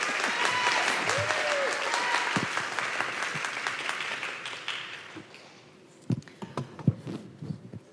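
Audience applauding at a live talk event, dense clapping that fades after about five seconds into a few scattered claps, with faint voices underneath.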